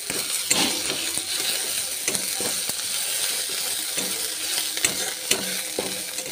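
Onions frying in oil in a home kitchen pan, with ginger-garlic paste stirred in. There is a steady loud sizzle, and a spatula scrapes and clicks against the pan in an irregular rhythm.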